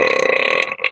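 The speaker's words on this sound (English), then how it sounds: "That's a man burp." A man lets out a single loud, close burp lasting about a second, ending abruptly.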